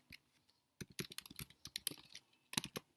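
Quick bursts of keystrokes on a computer keyboard, quiet and close, with brief pauses between short runs of typing and no voices.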